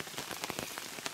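Steady rain patters and spatters on surfaces by a river outdoors, a dense, continuous hiss of close raindrops with scattered sharper drips, with no one speaking.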